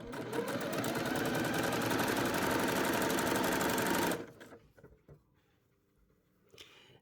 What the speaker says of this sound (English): we're going to just sew a straight line